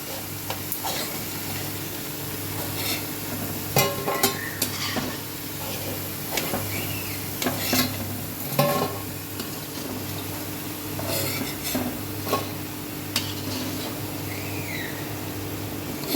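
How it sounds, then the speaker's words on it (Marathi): Corn pakoras deep-frying in hot oil, a steady close sizzle with occasional sharper clinks and scrapes from a utensil in the pan, with no talk. "अशाच पद्धतीने आपण ही बाकीची पण भजी तळून घेऊया."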